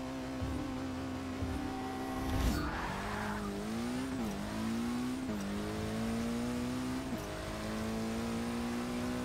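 A car in the Forza 6 racing game revs hard and launches into a quarter-mile drag run, with loud engine tone climbing through several gear shifts, a brief tire squeal at the launch, and no talking.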